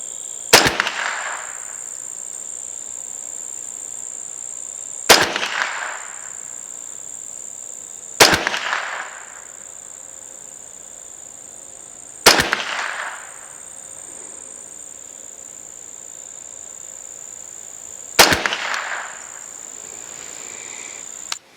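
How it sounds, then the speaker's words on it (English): Five rifle gunshots fired at a silhouette target 100 yards away, each a sharp loud crack followed by a fading ring, spaced a few seconds apart, with a steady insect-like hiss running throughout. "I fired 5 headshots"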